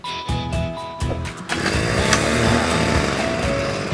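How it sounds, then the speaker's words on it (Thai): A small two-stroke brush cutter engine idles with a few sharp stutters, then revs up to a loud, steady high-pitched whine, close by. "ตัวนี้เป็นเครื่องยนต์สองจังหวะนะ ดึงคันเร่งหน่อย"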